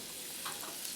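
Shrimp fry in butter in a pan over medium heat, giving a steady, dense sizzle that stays even and unbroken throughout.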